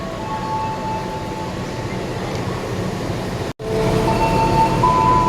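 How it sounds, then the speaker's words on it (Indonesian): A CC 206 locomotive hauling the Pangrango train gives a steady, loud rumble with a faint tonal hum, broken by a brief dropout and then continuing. "menggunakan rangkaian lokomotif CC 206 1377 itu teman-teman"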